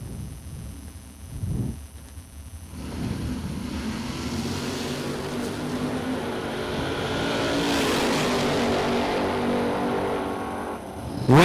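At a drag race, a 1956 Chevy and a Mustang idle with a low rumble, then roar off and build into a long, loud engine howl that fades into the distance.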